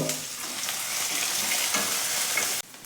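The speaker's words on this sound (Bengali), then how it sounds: "পেঁয়াজ কুচিটা দিলাম এর ভেতরে আর তার সাথে ক্যাপসিকামটাও দিয়ে দিলাম দিয়ে এটাকে একটু ভালো করে ভেজে নেব" Chopped onion and capsicum sizzle and fry in a pan for kadai paneer, a steady close crackle with light stirring that cuts off abruptly near the end.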